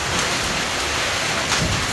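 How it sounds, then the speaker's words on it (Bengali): Heavy rain pours down during a windy thunderstorm, a dense, loud, continuous roar of falling water close by, with no distinct thunderclap and no voices. "বজ্র বৃষ্টি,"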